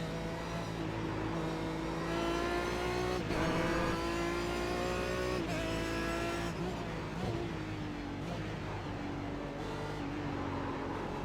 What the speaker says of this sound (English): Get the car working nice and still forcing it into the corner.